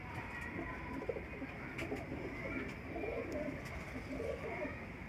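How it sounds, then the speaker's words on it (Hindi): Saharanpuri pigeons coo softly and steadily, low and close in a loft, with faint flutters and small background rustles across the stretch. "ये देखें दोस्तों ये पूरा कबूतर।"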